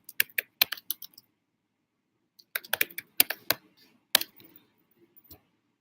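Sparse keystrokes click on a computer keyboard in two short clusters with a quiet pause between them, close and fairly soft.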